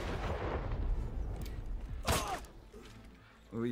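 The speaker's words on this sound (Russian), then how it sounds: "Вот сейчас из-за туалета и выстрелим." One sharp gunshot cracks out in the video game Desperados 3, a loud broadband burst partway through, set against murky in-game ambience and mechanical creaks, with another thud near the end.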